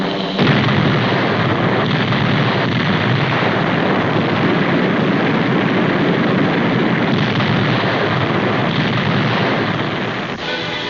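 Bombs explode during a wartime air raid over Germany in an old 1963 documentary soundtrack, a dense, continuous roar of blasts and rumbling concussions, loud and muffled with a narrow, dated tone, with no voices.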